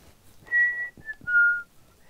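A melody for a song, whistled clearly and close: a few sustained notes with short breaks between them, alone and without speech over a quiet background.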